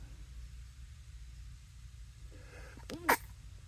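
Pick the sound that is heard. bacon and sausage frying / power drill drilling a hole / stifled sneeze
stifled sneeze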